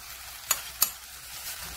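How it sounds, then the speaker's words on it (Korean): Kimchi stir-frying in a pan as the first step of cheonggukjang stew, with a soft steady sizzle broken by two sharp scraping clicks close together. "김치를 살짝 볶아. 그래야 맛있어."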